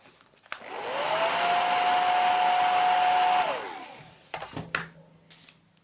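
Hair dryer drying paint, whirring up to a steady high-pitched blowing roar for about three seconds, then winding down, followed by a few clicks and handling knocks.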